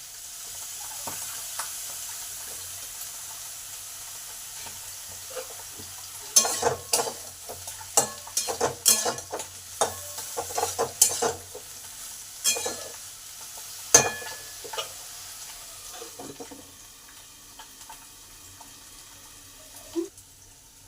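Eggplant pieces added to a pan of already fried potatoes, with frying sizzle, scattered clatter and stirring scrapes from about six seconds on and a faint background hum before that.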